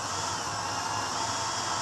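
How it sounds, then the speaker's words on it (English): A power drill bores through the frame of a 1994-97 Ford crew cab truck for a fuel tank strap, stepping up to a 9/16 bit; a steady, close, continuous whirring grind runs throughout with no talk. "And as I'm drilling through"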